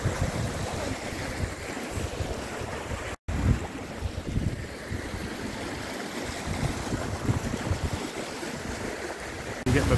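Water rushes and splashes steadily as hikers cross a burn on a January hike from Butterstone to Dunkeld, mixed with gusty wind noise on the microphone, with a brief dropout partway through.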